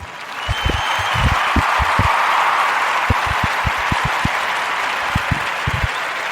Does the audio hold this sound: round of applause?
yes